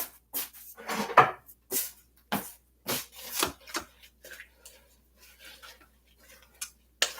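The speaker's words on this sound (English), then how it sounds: "I think I'll give it a little stir." A spoon stirs lentils and water in a pot, giving uneven scraping swishes and knocks that come close and clear in separate bursts with short gaps between them.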